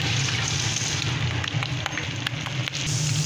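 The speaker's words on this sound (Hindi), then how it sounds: "कबाब मैंने डाल दिए, ये फ्राई हो रहे हैं" Peshawari chapli kebabs fry in a pan with a steady, close sizzle dotted with sharp oil crackles and pops.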